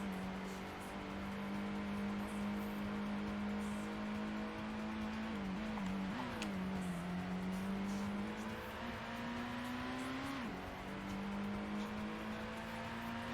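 A race car in the video game Gran Turismo, its engine holding a steady, loud drone with brief dips and climbs in pitch as it shifts and revs through corners, continuous and close.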